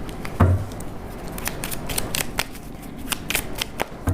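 Tarot cards are shuffled by hand in a string of soft, close riffling and sliding bursts, fairly quiet, with no talking.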